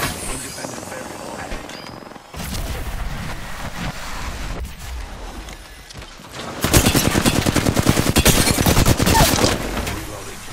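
Gunfire in the video game Apex Legends, a sustained run of rapid, dense shots toward the end after a stretch of wind-like game ambience and a voice talking.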